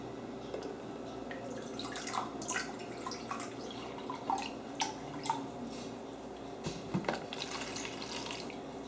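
Apple juice poured into a measuring cup in a kitchen, a continuous liquid trickle with small splashes and drips, fairly close and unaccompanied by speech.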